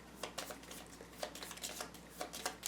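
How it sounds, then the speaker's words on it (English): A deck of cards for the board game Kingdom Death Monster being shuffled, soft repeated riffling and tapping in quick irregular bursts, quiet and close with no talking. "Now we shuffle this."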